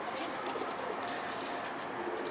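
Pigeons coo softly amid a steady wash of broadband outdoor noise, the calls low and indistinct rather than close and clear, with no talking.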